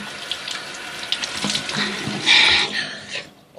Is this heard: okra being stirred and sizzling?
no